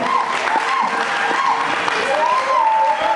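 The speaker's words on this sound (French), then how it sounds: "Acclame aussi pour toi-même." A church congregation applauds and cheers, dense continuous clapping filling the room with voices rising over it throughout.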